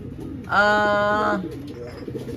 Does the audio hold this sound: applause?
no